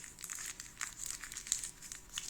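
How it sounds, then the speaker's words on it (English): Paper is crunched and crinkled close by in soft, irregular bursts of rustling, with no voices. "Just me crunching some paper."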